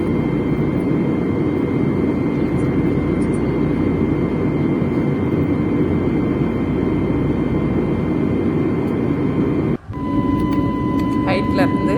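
Steady, loud engine roar inside an airplane in flight, a constant droning hum filling the cabin with a brief dip near the end; a voice talks over it.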